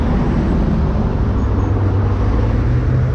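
Cars on a busy road alongside the Westside Belt Line path pass very close, forming a loud, continuous roar of traffic with a heavy low rumble and no pauses or voices.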